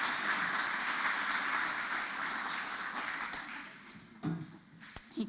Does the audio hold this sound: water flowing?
no